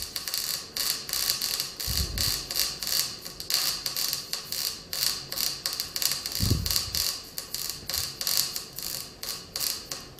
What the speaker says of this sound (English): And now it's time to finish weld it